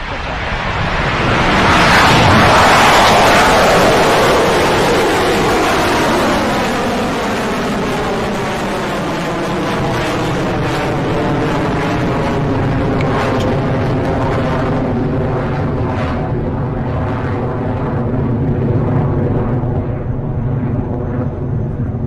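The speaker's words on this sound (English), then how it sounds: "Engine start." Rocket Lab's Electron rocket lights its first-stage engines at liftoff, a loud rushing roar that builds quickly, then settles into a steady, crackling rumble as the launch continues.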